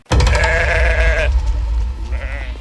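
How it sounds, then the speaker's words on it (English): Sheep bleating loudly and close in a drawn-out, wavering call, followed by a fainter second bleat near the end. "I just like the sound of sheep"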